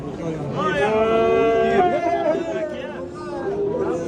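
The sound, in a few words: bulls lowing at livestock market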